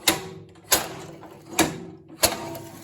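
The drive handle on a Craftsman 9.5HP 24-inch two-stage snowblower is pulled down repeatedly, pulling the cable and moving the idler. Four sharp mechanical clacks ring out at even intervals, each followed by a brief rattling decay, close and loud.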